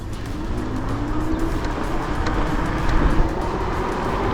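Cars race downhill on a dirt road, a dense, loud rumble of engines and tires on loose ground that stays steady and close for a few seconds.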